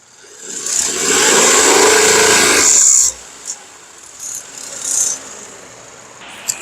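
A loud, rough engine drone from a Genesis G80 at 1500 RPM with a raspy rattle for about three seconds, cutting off abruptly, followed by faint scattered knocks and hiss.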